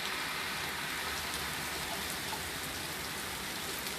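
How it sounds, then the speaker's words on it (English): Rain falls on a stormy day, a steady close hiss of drops striking surfaces, constant in level across the whole stretch with no talking. "Well, the rain is slacking up,"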